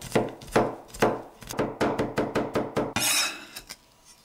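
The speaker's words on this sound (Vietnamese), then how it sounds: "Tỏi cũng vậy, băm giống hành luôn nha." Garlic being minced with a knife on a cutting board, a run of crisp, evenly spaced chops up close, ending with a brief scraping sweep.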